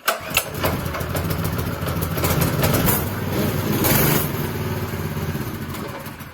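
A small engine on a homemade minibike starts up and runs, a close, loud, rough puttering drone with slight revving that holds steady for several seconds.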